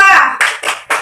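Hand clapping in a 'Tepuk P2K2' ice-breaking clap game at a family parenting-education session: a brief voice, then three sharp, evenly spaced clap bursts, close and fairly loud.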